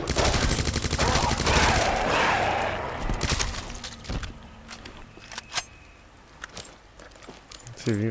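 Gunfire from the video game Resident Evil 2, a loud burst of rapid shots in the first few seconds followed by a few scattered single shots, with a player talking over parts of it.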